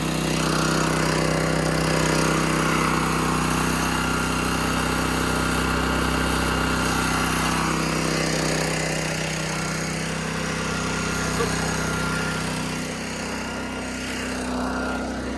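A small petrol engine on a remote tree watering setup runs steadily at half choke, a loud, even drone holding nearby for the whole stretch with only slight dips in level and no speech.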